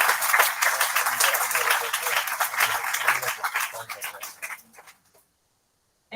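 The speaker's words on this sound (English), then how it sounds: "Let us welcome Father Joji with a big round of applause" A conference audience at a life science research event claps loudly to welcome a guest, a thick patter of hands that gradually thins and fades into silence near the end.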